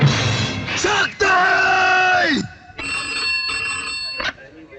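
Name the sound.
telephone ringing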